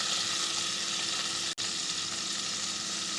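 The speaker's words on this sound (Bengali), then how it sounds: "একটু হালকা করে চিংড়িটাকে ভেজে নেব" Shrimp fry in hot oil with turmeric and salt, a dense, even, close sizzle that carries on steadily with one momentary dropout partway through and no voices.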